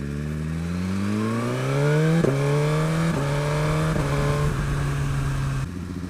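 A Suzuki GSX-R1000R sport motorcycle engine revs hard and loud, climbing steadily through the gears with clean upshifts at regular intervals, close by and with no talk over it.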